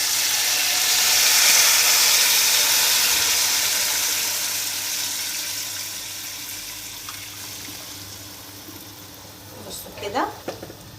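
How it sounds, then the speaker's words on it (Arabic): Hot water poured from a kettle into a pan for pasta, a steady broadband splashing rush that swells early and slowly fades over several seconds, with a few brief clinks near the end. "جايبه انا بقى مسخنه ميه في الكاتل احطها."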